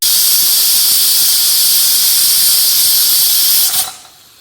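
A pressure cooker cooking fenugreek pulao vents steam through its whistle, a loud, close, sustained hissing shriek that holds for nearly four seconds and then cuts off abruptly into quiet.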